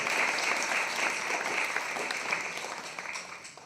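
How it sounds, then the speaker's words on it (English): A room full of people at a London storytelling event breaks into applause, a dense, steady patter of many hands clapping that gradually thins toward the end, with no voices over it. "Applaud it."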